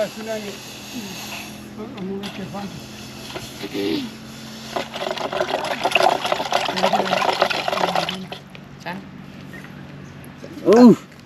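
An object dipped and swirled in water, with splashing and trickling sounds close by while people talk over it; a sharper splash near the end.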